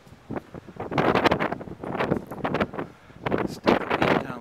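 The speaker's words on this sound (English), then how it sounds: "pretty windy up here." Gusty wind on a ship's deck near the bow buffets the microphone in uneven surges, rising and falling with strong rumbling bursts, no voices heard.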